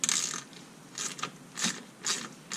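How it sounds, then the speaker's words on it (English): A ratchet with an 8mm socket backing out the front screw on a 2007-2013 Mini coolant expansion tank, quick bursts of close clicking pawl sounds in short strokes, no talk. "socket to get this front screw off"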